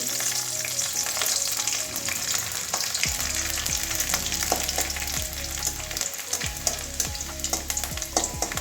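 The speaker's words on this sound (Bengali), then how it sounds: "এবারে রসুন কটা ভেজে নেব দশ বারোটা রসুন নিয়েছি" Garlic cloves frying in oil in a Bengali kitchen, with a busy, continuous sizzle and spatter, and a few stirring scrapes partway through.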